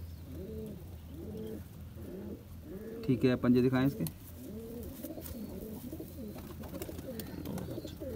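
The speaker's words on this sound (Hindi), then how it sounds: "बहुत अच्छे कबूतर हैं" Fancy pigeons kept by a hobbyist in Jammu and Kashmir coo in repeated low, throaty phrases close by, with a brief louder flutter midway, while someone talks over them.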